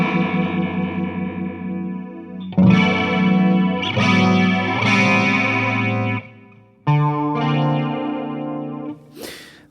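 Clean electric guitar played through the Triton Chorus effect in the Amp One iOS guitar amp app, sustained chords with a shimmering modulated wash, loud and close, with short gaps between phrases.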